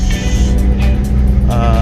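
Mitsubishi Pajero with a 4M41 diesel engine and converted injection pump, idling with a steady low rumble, close and loud, continuous through the short stretch.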